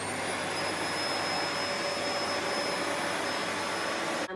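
A vacuum cleaner with a hard floor head runs at a steady, loud whine and rushing airflow, close and continuous, with a faint high tone, cutting off abruptly at the end.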